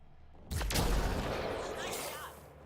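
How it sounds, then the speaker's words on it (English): A sniper rifle fires in a video game with a sharp, booming report that rings out loud and close, trailing into a long rumbling decay over a couple of seconds. "That's a great sounding sniper."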